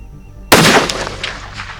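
A Sako TRG rifle chambered in .338 Lapua fires one sharp, loud shot at an outdoor range, followed by a brief echoing decay.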